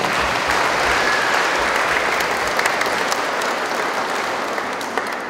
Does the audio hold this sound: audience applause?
yes